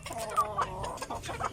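Chickens on a farm clucking, including fighting cocks, with several overlapping short clucks and calls at close range, no talk.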